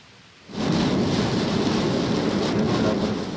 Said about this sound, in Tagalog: Madaling araw pa lang wala nang tigil ang ulan sa Isabela dulot ng bagyong Nika.